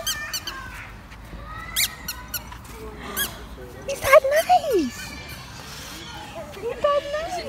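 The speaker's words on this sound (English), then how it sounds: "Squeaky toy." A child's squeaky toy gives several short, high squeaks, the loudest bursts in the middle, sounding close by at a park among children and people talking.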